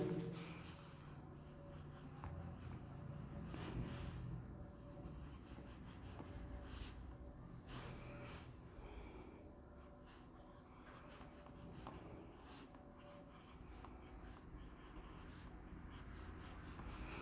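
Numbers are written by hand for a maths lesson, faint scratchy strokes of pen or chalk against a low, steady room hum, with no speech.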